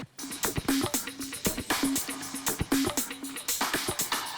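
A drum-heavy percussion track plays with repeated hits and a recurring tonal accent, washed in heavy reverb that makes each beat ring out.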